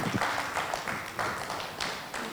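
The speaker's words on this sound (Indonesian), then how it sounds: "Berikan tepuk tangan kepada Mas Arif Nur Khalis." An audience at a training workshop in Sidoarjo applauds as a speaker is introduced, with dense clapping surging in uneven waves, fairly close and continuous throughout.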